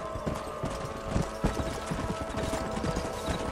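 Horse hooves clip-clop steadily in the Red Dead Redemption video game, a close rhythmic stream of hoofbeats from a herd on the move.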